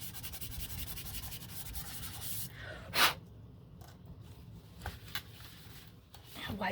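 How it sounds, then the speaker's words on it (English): Sandpaper rubs briskly across the edge of a paper journal belly band in close, quiet strokes, followed by a soft tap and light handling noises. "sand a little off of here"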